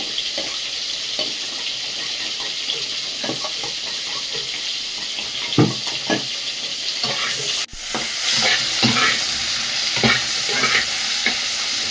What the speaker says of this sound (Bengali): ভাজা হয়ে গেল, এবার আমি তুলে নেব